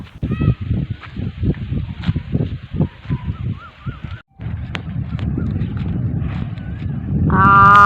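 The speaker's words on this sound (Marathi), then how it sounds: "तुम्ही सुद्धा हवेचा पक्ष्यांचा आवाजाचा आनंद घ्या" Birds near farm fields give a run of loud, rhythmic honking calls close by, briefly pause, then continue more densely before a sharper, higher call rises at the end.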